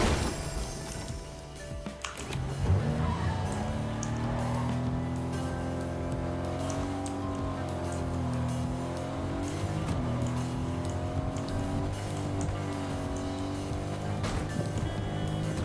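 A car driving in Fortnite, its engine droning steadily and wavering in pitch as it rolls along, loud and close, with faint brief talk underneath.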